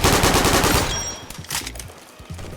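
Rapid bursts of SMG fire in a shooter video game, loud and dense at first, then thinning into shorter, scattered bursts with quieter gaps between them.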